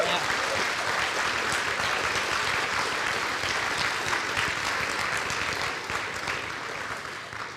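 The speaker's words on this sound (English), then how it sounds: "Let's give them all a great round of applause." Sustained applause from a banquet audience at an agri-business awards dinner, honoring sponsors, an even, continuous wash of clapping that holds steady and eases slightly near the end.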